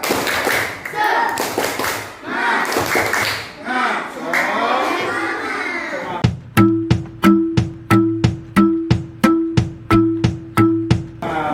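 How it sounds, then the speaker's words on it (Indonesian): A primary school class chants aloud together, then shifts into the rhythmic 'tepuk semangat' clapping pattern, a series of sharp, evenly spaced group claps and thumps close by. "kita tepuk semangat dulu ya, biar semangat"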